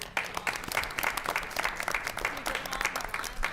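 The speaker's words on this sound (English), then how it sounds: "One more round of applause for everyone." Applause from the audience at a school committee meeting in Danvers, dense steady clapping from a room full of people with faint voices mixed in.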